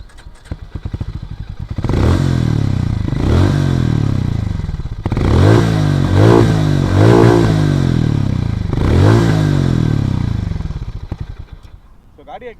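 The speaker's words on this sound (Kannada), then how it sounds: "ಸೊ ಗಾಡಿ ಎಕ್ಸಾಸ್ಟ್ ನೋಟ್ ನೋಡೋಣ ಬನ್ನಿ" A Harley-Davidson X440 motorcycle revs loudly up close through its exhaust, several sharp throttle blips rising and falling in a punchy, thumping rhythm, with mechanical clatter between bursts and the idle fading out at the end.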